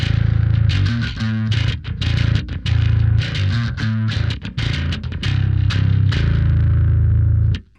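A distorted bass guitar, a G4M 972 long-scale multiscale bass on its passive bridge pickup, plays a gritty riff with sustained notes and quick muted stabs, loud and upfront with no talking.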